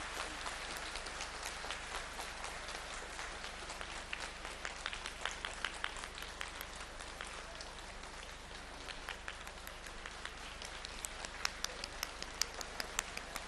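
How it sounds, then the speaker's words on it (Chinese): Applause from the audience at a Buddhist dharma assembly in Paris, a dense and sustained patter of many hands clapping at moderate distance, swelling slightly toward the end, with faint voices underneath. "让我们用最热烈的掌声恭请我们尊敬的卢军宏台长"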